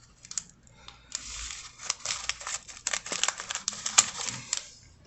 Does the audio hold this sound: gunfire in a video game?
no